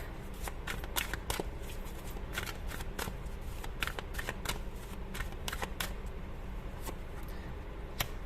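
A tarot card deck being shuffled up close, crisp riffling bursts of cards repeating in quick irregular flurries over a low steady background, with no talking.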